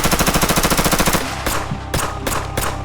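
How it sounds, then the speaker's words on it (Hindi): A rapid burst of gunfire rattles loudly, followed by several single heavy shots spaced apart, close and sharp, Lee-Enfield rifles firing in the Jallianwala Bagh massacre, Amritsar. "गोलियां चलनी शुरू हुई"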